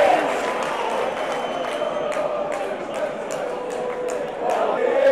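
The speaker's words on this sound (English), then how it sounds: "And there's the usual booing of the Champions League anthem" A packed football crowd in a compact stadium boos the Champions League anthem at a Club Brugge versus Manchester City match, a steady, dense roar of massed voices filling the ground throughout.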